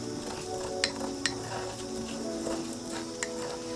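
Black salt is stirred into a protection oil, a soft, continuous scraping swirl with a few light clinks of a utensil against the container, close and fairly quiet with no talking.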